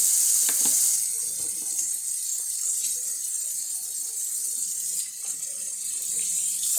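Hot water runs steadily from a kitchen tap while hands are washed after loading a dishwasher, a continuous close hiss with slight splashing changes throughout.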